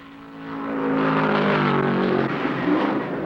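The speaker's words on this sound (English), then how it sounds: "Petty is in trouble. He's slowed down considerably and begins to drop down on the apron." Richard Petty's stock car at Talladega in the 1975 Winston 500, slowing and dropping onto the apron: a steady engine drone that swells after the first second and holds loud and sustained, with no voices.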